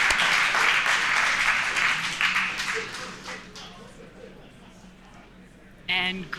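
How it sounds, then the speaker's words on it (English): Applause follows the SpaceX Crew-4 Dragon splashdown as the main parachutes deploy. Clapping from a room of people starts loud, fades over a few seconds, then a voice speaks. "Please clap."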